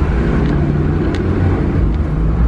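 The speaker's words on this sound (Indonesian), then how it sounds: "Nih, kalau misalkan ada truk gini ya susah juga ya papasan." A large truck passes close on a narrow rural access road between rice fields leading from a toll exit, its steady low engine rumble loud and continuous throughout with no talking.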